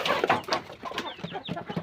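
Chickens cluck in a busy, overlapping stream of short calls, close by and moderately loud.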